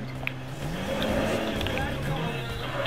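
A car drifting in the racing video game Need for Speed, its engine drone and tire noise running steadily throughout with a wavering pitch, heard under a person talking.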